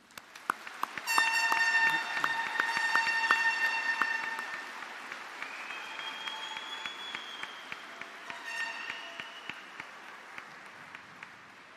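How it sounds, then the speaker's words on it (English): A graduation ceremony audience claps steadily for several seconds, a dense wash of applause that gradually thins out as music plays alongside. "Let's give them a big round of applause."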